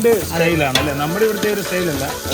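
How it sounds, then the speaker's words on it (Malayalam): Rice frying and being stirred in biryani masala for a snakehead fish biryani, a steady sizzle with scraping stirs mixed under tonal background music. "നമ്മുടെ അരിയൊക്കെ ഇനി ഒന്ന് മൂത്ത് വറുത്തെടുക്കട്ടെ"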